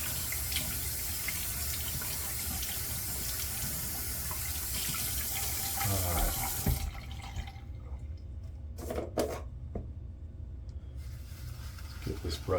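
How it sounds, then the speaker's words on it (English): A tap runs as a shaving brush is soaked for face lather, a steady rush of water for several seconds that cuts off, followed by quieter dripping and handling noises. "Get this brush good and wet."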